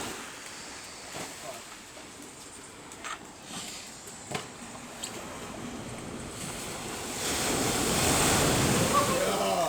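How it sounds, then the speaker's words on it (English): Ocean surf rolling in and breaking on a beach during a skimboarding session, a steady wash that swells louder near the end, with wind noise and a few brief voices in the background. "The last wave of the set right here."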